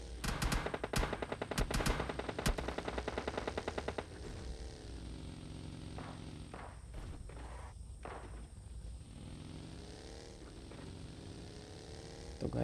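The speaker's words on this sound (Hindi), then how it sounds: "जब सामने से गोलियों की आवाज़ें आने लगी थी" Automatic and single gunfire from PUBG Mobile Lite, a rapid loud burst of shots over the first few seconds, then scattered distant shots and faint footstep-like movement under steady game ambience.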